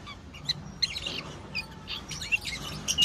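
Lutino cockatiels, a one-year-old pair with full red eyes, chirping in short sharp bursts scattered over a soft background hiss, with several calls close together and no talking.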